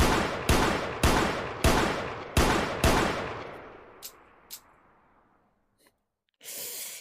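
Six sharp pistol shots fire in a steady rhythm at a virtual VRChat shooting range, each loud crack trailing into a decaying echo, followed by a few faint clicks and a short burst of hiss near the end.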